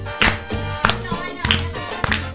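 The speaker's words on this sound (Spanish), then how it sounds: "vamos a estar aplaudiendo hasta el año que viene" Hands clap along to a lively cuarteto-style song with a chocolate-themed chant, roughly four sharp claps about every 0.6 seconds over steady music and singing.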